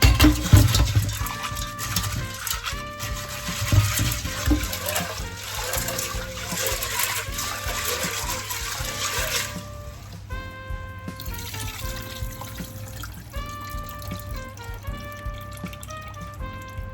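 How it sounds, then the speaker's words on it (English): Water poured over peas to rinse them, a running splash and trickle that fades partway through, followed by a quieter stretch with tonal background sounds. "Pour in some more water to get it clean as possible."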